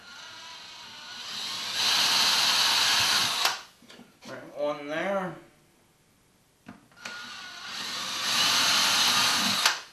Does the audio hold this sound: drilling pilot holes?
yes